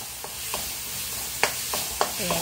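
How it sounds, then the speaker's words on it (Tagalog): Garlic browns while being sautéed in a pan for sisig: a steady sizzle runs underneath scattered clicks and scrapes of stirring, with no talking. "gigisa daw niya yung bawang"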